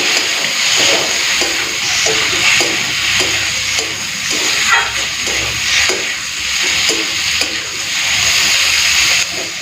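Taro stolons dropped into hot oil with fried onion, garlic and green chilli, giving a steady loud sizzle with bursts of stirring and scraping throughout, no voices.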